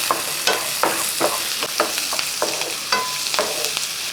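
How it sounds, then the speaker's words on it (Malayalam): Chopped onion, garlic and curry leaves fry in hot oil with a steady close sizzle, broken by regular scraping stirs of a spatula in the pan, with no one talking. "അപ്പോൾ ഇതെല്ലാം കൂടെ ഈ ഉള്ളിയും വെളുത്തുള്ളിയും ഒക്കെ ഒന്ന് ഫ്രൈ ആകട്ടെ കേട്ടോ"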